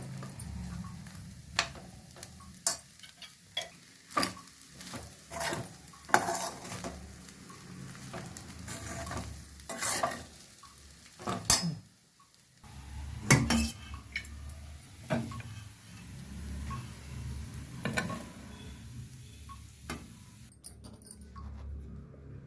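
Gongura rice finished with ghee is stirred in a pan, the spoon clinking and scraping against the metal in an uneven run of taps and knocks over a soft background, with occasional quiet pauses and no talking.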